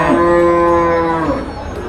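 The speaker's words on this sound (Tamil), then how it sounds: "எல்லாமே பால் மாடுங்க தான் நிறையா வந்துருக்கு நாட்டு மாடு ஜெர்சி மாடு" Dairy cattle at a busy livestock market, including native breeds and Jerseys: one loud, close, drawn-out moo that slowly fades against general market background noise.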